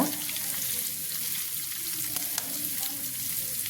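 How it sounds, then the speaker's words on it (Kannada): Okra pieces frying in a pan, a steady close sizzle with faint stirring scrapes and no voices over it. "ಸ್ವಲ್ಪ ಸ್ವಲ್ಪನ ಫ್ರೈ ಮಾಡ್ತಾ ಇದ್ದೀನಿ"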